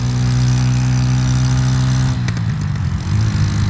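A motorbike engine drones loud and close, holding a steady pitch before a brief dip and change in tone partway through as it shifts up a gear, then the engine note carries on.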